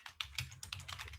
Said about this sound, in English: I actually can type in here and type something in